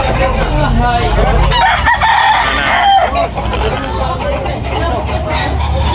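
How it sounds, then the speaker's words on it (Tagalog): Roosters crow and hens cluck amid a busy chicken market in Tabunok, Talisay, Cebu, loud and close, with crowd chatter and voices running underneath throughout. "Quality manok."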